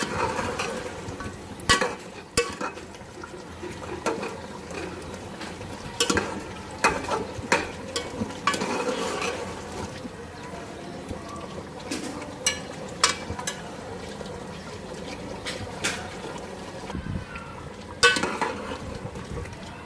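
Meat and peeled tomatoes fry together in a karahi for Shinwari-style karahi, with a steady background sizzle broken by frequent sharp scrapes and clanks of a spoon stirring against the pan, with no talking.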